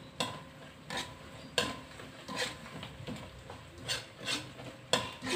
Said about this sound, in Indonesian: Ini kita masak sampai airnya menyusut teman-teman.